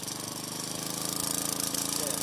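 A farm machine's engine chugs in a fast, even pulse as the throttle is gently pushed, growing slightly louder and rougher over the short stretch.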